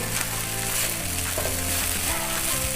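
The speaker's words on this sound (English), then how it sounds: "the flame is absolutely high, and I am going to keep searing the rice inside the wok" Egg fried rice searing in a wok over a high flame, a steady, close, broadband sizzle with metallic scraping and stirring clatter throughout, and no voices.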